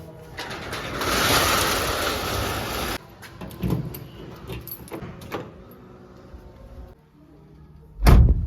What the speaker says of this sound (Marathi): सर्वात आधी ना गेटमध्ये गेट उघडू